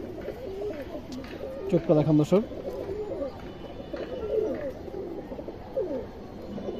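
Pigeons at a farm coo softly and repeatedly beneath a voice, with a louder burst of cooing and wing-flutter near the middle.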